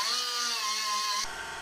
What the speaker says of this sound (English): once we get it cleaned up with the angle grinder